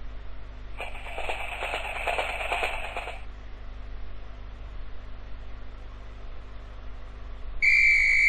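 A shrill, steady guard's whistle blast in a Dora the Explorer PC game, lasting a couple of seconds over a faint background hum, followed later by a brief, sharper high tone.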